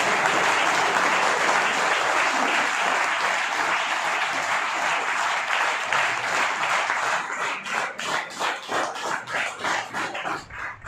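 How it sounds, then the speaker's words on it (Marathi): Loud, dense applause from an audience at an academy's anniversary function, sustained and steady for most of the stretch, then breaking into looser, separate claps as it tapers off near the end. "आपल्याला एकच चान्स आहे लग्नाच्या अगोदर जोरदार टाळ्या वाजवायच्या ना"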